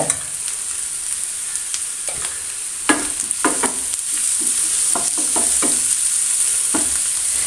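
Onions with turmeric powder stirred and frying in a pan for a Kerala-style drumstick flower thoran, a steady close sizzle broken by repeated sharp scraping strokes of a spoon against the pan, with no voices.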